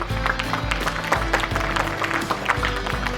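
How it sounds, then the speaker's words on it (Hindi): Scattered clapping from an awards ceremony audience rises over a steady humming tonal background, the claps arriving as brisk overlapping bursts at moderate loudness. "जोरदार तालियां"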